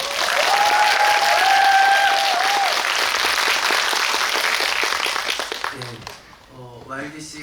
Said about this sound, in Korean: 다시 한번 세 분께 박수